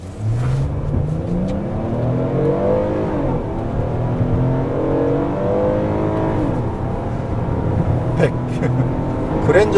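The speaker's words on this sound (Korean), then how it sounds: "급가속을 한번 해보도록 하겠습니다." A 3.0-litre naturally aspirated V6 sedan in sport mode accelerates hard, its engine note climbing steadily in pitch and staying loud and close throughout, with voices talking over it.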